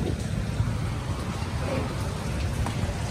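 Steady rain pours down outdoors as a dense, even hiss of drops, close and continuous with a faint low rumble underneath.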